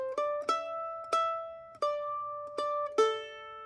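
Mandolin picking a phrase of a bluegrass tune, about six bright plucked notes with ringing sustain, played alone and close.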